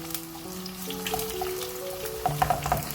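Onions frying in hot oil for a Sabat Mongi Gosht curry, a soft steady sizzle with faint crackles and small pops near the end.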